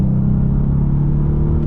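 A Bentley hybrid car on twisty roads, giving a short, steady, loud low engine hum and rumble heard from inside.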